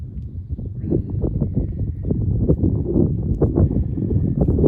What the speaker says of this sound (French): Il y a des rafales de vent qui arrivent là